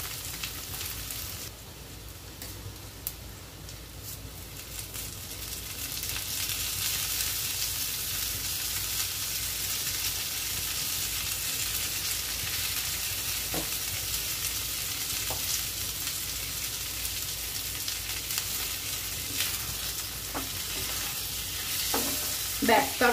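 A vegetable curry stir-fries dry in a pan, giving a steady, close sizzle with occasional scrapes of stirring throughout.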